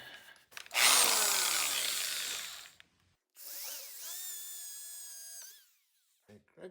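A cordless drill whirs loudly as it bites into wood for a couple of seconds, pauses, then spins up again with a rising whine.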